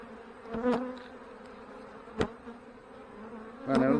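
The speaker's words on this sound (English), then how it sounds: "I'll just shake the bees off, use my brush for the rest of them." Honey bees buzz faintly around a fireweed honey harvest as frames are shaken and brushed, with a soft continuous drone broken by a few brief louder passes close by.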